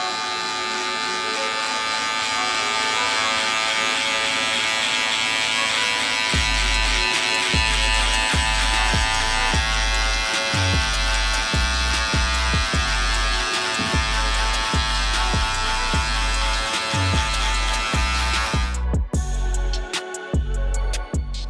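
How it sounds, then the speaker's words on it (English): Electric hair trimmer fitted with a 1 guard, lever open, cutting hair during a buzz cut: a steady close motor buzz with repeated low pulses in a regular rhythm from passes across the head, then a brief clatter near the end. "Trimmer, open lever, 1 guard lever open"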